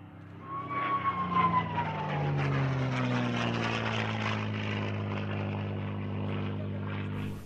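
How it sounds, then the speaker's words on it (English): A pair of T-6 propeller trainers, formerly Belgian Air Force aircraft, drone past at an airshow in Florennes, Belgium. The engine roar is loud and continuous, with a falling pitch as they pass, and no one speaks. "these T-6s, flown by Danica Boter and Erik Vormezele, date back to that era"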